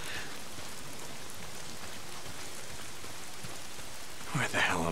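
Steady rain pours down in the video game Days Gone, a constant hiss of drops on surfaces throughout, with a brief louder sound rising near the end.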